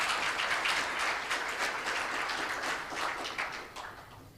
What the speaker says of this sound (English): We can do better with our clap of applause